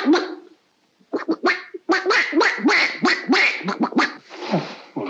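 A voice imitates a duck, letting out a rapid string of nasal, raspy quacks after a short opening call, loud and close.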